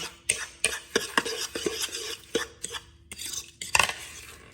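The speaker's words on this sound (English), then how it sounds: "Take a fork and kind of stir those around a little bit." Fork stirring broccoli pieces coated in melted butter in a pot or dish for a cheesy broccoli casserole, with sharp irregular metal clinks and scrapes against the cookware and brief soft pauses between strokes, close and alone.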